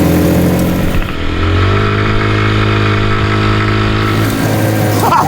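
A mini hot rod's small engine revs and accelerates on a city street in Vienna, loud and close, its pitch climbing steadily and then settling as the run continues.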